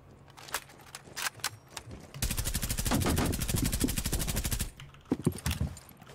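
Rapid automatic gunfire in the video game Rainbow Six Siege, a sustained burst of tightly spaced shots lasting a couple of seconds, framed by scattered single shots and clicks before and after.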